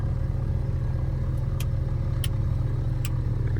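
A Tecnam P2006T twin-engine aircraft's engine runs steadily, giving a constant, loud low drone with a throbbing mechanical hum and a few faint light clicks on top; no one speaks.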